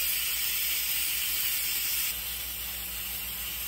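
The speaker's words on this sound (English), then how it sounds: "you want to wait until all of the steam is done venting" Steam vents from a pressure cooker in a steady, loud hiss that holds for several seconds and drops slightly in level partway through. No other sounds are present.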